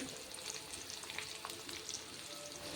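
Okra sautéing in a cooking pot for a simple vegetable curry crackles and sizzles steadily, a faint, even frying hiss with light spitting pops throughout.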